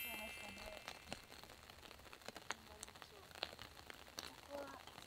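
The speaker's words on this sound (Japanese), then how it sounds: "雨がすごくなってきちゃいました。" Heavy rain falls on a golf course, a steady broadband hiss of drops with scattered sharper patters and taps, with people talking faintly underneath throughout.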